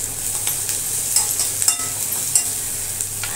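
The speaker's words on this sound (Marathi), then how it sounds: "आता हे चांगलं आपल्याला भाजून द्यायचं।" Grated garlic and ginger sizzling and frying in a pan while being stirred, a steady close hiss with occasional scraping strokes of the spoon, and no talking.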